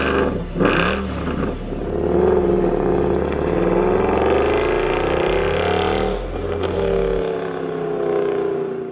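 A Mercedes C63 AMG W204 with its large naturally aspirated engine revs hard, a loud throaty roar climbing and falling in pitch over several seconds before cutting off near the end.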